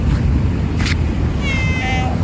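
A cat meows a couple of times nearby, short thin cries over a loud rumbling background of engine or vehicle noise.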